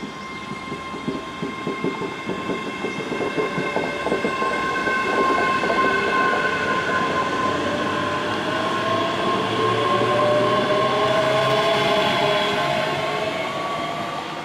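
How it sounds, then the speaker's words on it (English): A ScotRail Class 385 electric train passes at Bellshill station, its rising whine and rolling wheel noise building loud and close, with steady rumble and a faint clatter over rail joints sustained throughout. "Faster, quieter, greener trains from ScotRail."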